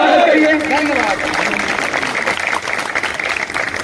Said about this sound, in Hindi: इन लोगों को एक बार जोरदार ताली से स्वागत करिए।